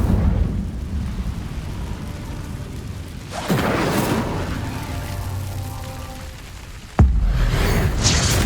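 A fire spell bursts in Hogwarts Legacy, a sudden whooshing flare with crackling roar, followed several seconds later by another sharp burst amid ongoing rumbling game ambience.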